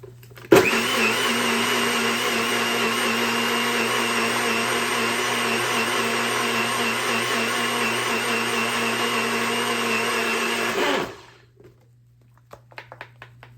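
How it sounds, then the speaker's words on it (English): A blender blending cilantro whirs loudly and steadily for about ten seconds, then cuts off abruptly, leaving a low hum and a few faint clicks. "So I'm gonna keep blending."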